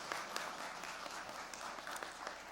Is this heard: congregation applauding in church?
yes